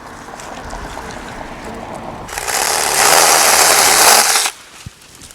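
An electric saw trims material during a tool review, a loud, steady buzzing burst of about two seconds that rises out of quieter background and then cuts off.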